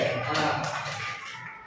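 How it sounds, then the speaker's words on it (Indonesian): A classroom of pupils claps for a classmate during a lesson on Islamic prayer movements, a short burst of scattered hands that fades toward the end, with a voice talking over it. "tepuk tangan buat Rotul"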